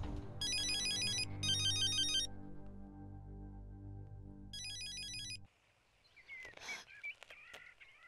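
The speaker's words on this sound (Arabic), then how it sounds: "رد بقى على التليفون" A telephone rings with a bright electronic ringtone in repeated bursts, loud and close, before cutting off into quieter background sounds.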